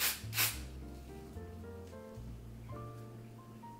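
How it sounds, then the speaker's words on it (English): Two quick hissing bursts of hair spray right at the start, followed by soft melodic background music. "take this spray."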